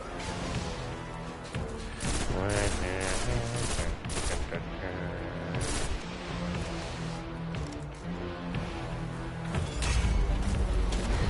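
Heavy gunfire in a Destiny battle against a tank: dense, continuous volleys of loud blasts and crashing impacts layered over a thick rumbling din, with no break throughout.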